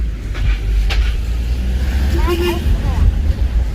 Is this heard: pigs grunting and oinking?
no